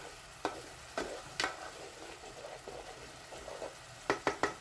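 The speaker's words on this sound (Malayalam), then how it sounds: "വിനീഗർ നമുക്ക് ചേർത്ത് കൊടുക്കാം. എന്നിട്ട് നല്ല പോലെ ഇങ്ങോട്ട് ഇളക്കുക." A spoon stirs a star gooseberry pickle mixture with vinegar in a pan. It makes a few distinct scraping strokes over a low, quiet simmer-sizzle, ending in a quick burst of repeated stirs close by. No one talks.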